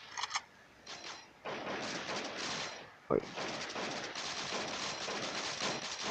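PTAK rifle gunfire in the Crisis Action shooter game, a dense stream of shots running through most of the clip, with loud bursts near the start and a sharp crack around the middle.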